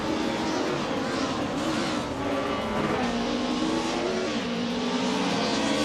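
A 1996 Opel Calibra DTM race car in a racing game revs hard and steadily, with shifting engine pitch and a continuous loud roar that stays close and dense throughout.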